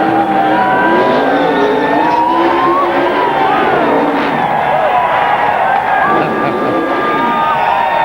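A stock car spins celebratory donuts at Dover during a 2002 Busch Series race, its engine roaring continuously with squealing tire tones, while a cheering crowd fills the background throughout.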